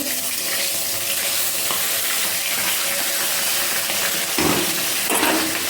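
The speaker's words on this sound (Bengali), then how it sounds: "এখানে মাছ ভাজা মনে হচ্ছে হয়ে যাচ্ছে" Hilsa fish sizzles and crackles steadily in hot oil in a pan, with a few louder bursts and stirring scrapes near the end.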